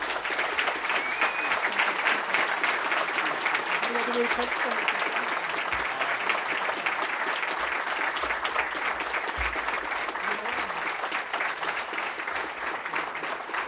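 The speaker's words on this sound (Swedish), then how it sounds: "Applåder!" Steady applause from the audience at a union congress that is electing a new chair. The clapping is even and sustained, at moderate loudness, and carries on for over ten seconds.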